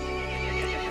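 A horse in the video game Resident Evil Village lets out a loud, close neigh with a quavering, whinnying pitch that fills the entire second.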